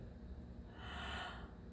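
A singer draws a quick breath in during a breathing exercise, a soft close airy inhale that swells briefly and fades, with no other sound.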